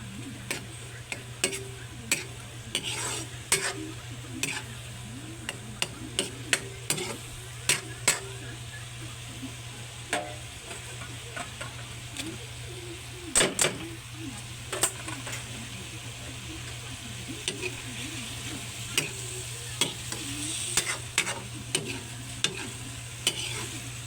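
Ground pork with oyster sauce stir-fries in a pan with a steady low sizzle, while a spatula scrapes and taps the pan in frequent irregular clicks; a voice talks intermittently over the cooking.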